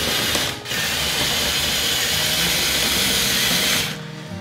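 A radio-controlled Volvo EC160E hydraulic excavator model runs its mechanism with a loud, steady mechanical whirring and gear-ratchet buzz that holds for about four seconds, dipping briefly near the start before trailing off.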